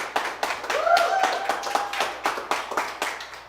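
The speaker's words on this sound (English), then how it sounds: "And the crowd goes wild" A fundraiser auction audience breaks into clapping after a sale, a brisk patter of hands from a modest crowd, with a voice talking over it early on.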